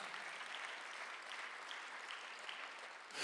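A Korean church congregation at a Thanksgiving Sunday worship service gives a round of applause; a steady, dense wash of many hands clapping, held evenly for a few seconds with no talk over it.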